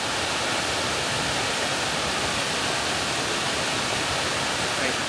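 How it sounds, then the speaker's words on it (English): Steady broadband roar from a waterfall heard from very close, a dense constant wash of falling water with no breaks or changes across the whole stretch. "we're going right into the waterfall, so it's about to get loud"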